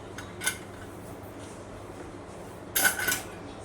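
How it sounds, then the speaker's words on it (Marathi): A pressure cooker of chicken is opened, giving a short metallic clink early on and then a louder cluster of lid clanks and scrapes near the end against a quiet kitchen background. "आपण हे कुकरला उघडून घेऊया"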